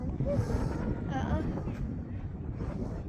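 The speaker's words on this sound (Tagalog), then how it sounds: "At medyo mahangin po." Steady wind buffets the microphone on a mountain top in Alberta, Canada, in a continuous low rumble, with faint voices in the background.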